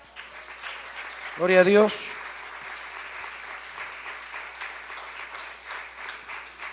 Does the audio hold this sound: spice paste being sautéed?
no